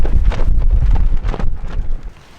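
Strong wind buffets a microphone on an exposed mountain campsite, loud rumbling gusts that surge and then ease off toward the end, with no voices.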